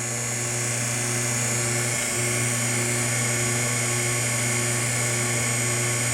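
A GAST rotary vane pump blower spins steadily, giving a continuous whirring hum with a strong low drone and bright high whine, holding constant throughout without any voices.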